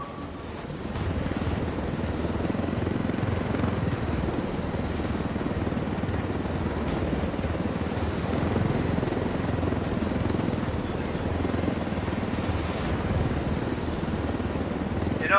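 In Ghost Recon Wildlands, a helicopter flies with a constant loud rotor and engine drone that holds steady from start to finish, with faint voices now and then underneath.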